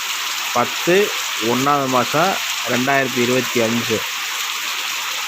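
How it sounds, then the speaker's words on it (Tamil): Rain falls steadily in the evening in Sengurichi village, Pandiyanur, a constant soft hiss that runs throughout while someone talks over it. "இப்போ வந்து மழை பெய்யுது."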